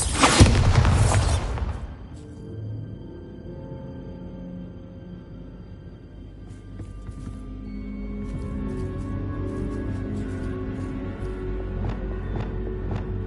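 A heavy blasting spell detonates with a loud, deep boom at the start, then fades into a low rumbling ambience with faint scattered clicks.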